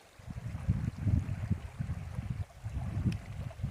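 A shallow creek trickling and gurgling close by, with soft bubbling pulses and low splashing, gentle and continuous on its own.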